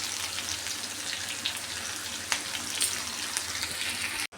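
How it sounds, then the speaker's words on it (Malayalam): Sliced onions with salt frying in a hot pan, giving a steady, dense sizzle that holds throughout and cuts off abruptly at the end. "സവാള അങ്ങോട്ട് ഇട്ട് കൊടുക്കാം. എന്നിട്ട് ഇതിലേക്ക് ഉപ്പും കൂടി ചേർത്ത് കൊടുക്കാം."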